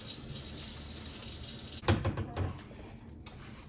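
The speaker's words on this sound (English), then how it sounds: "Wash my hands." Tap water runs into a sink during handwashing, starting as a steady broad hiss that turns into uneven splashing and sputtering as hands move under the stream, close and moderately loud, with no talking.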